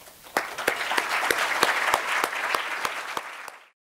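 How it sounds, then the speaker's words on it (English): A conference audience at a summit opening session breaks into steady applause, many hands clapping together close and full for several seconds before it cuts off abruptly. "I want to give you all a round of applause"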